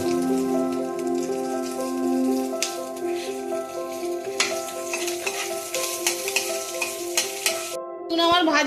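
Pointed gourd and cracked chillies frying in a pan, a close patter of spitting oil and stirring with light crackles, over a steady tonal background, without speech.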